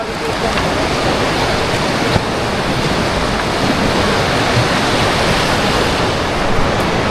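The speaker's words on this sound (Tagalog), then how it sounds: "Lakas lang ng agos." A strong, fast river current rushing steadily in Panorama, British Columbia, a loud continuous roar with no pauses and no talking.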